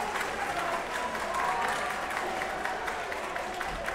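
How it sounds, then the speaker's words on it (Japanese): Loud, sustained applause from the crowd in a packed arena during a DEEP mixed martial arts fight, a dense steady roar of clapping lasting throughout with no break. "場内からも割れんばかりの拍手が起きております"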